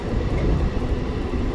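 Heard from aboard the Gudur MEMU Express, number 17260, running from Vijayawada toward Gudur, the train gives a steady, loud, low rumble with no breaks.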